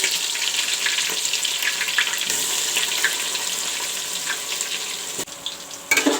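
Chopped onions frying in a pot for mutton curry, a steady loud sizzle and crackle running throughout with a few brief dips near the end, no talking.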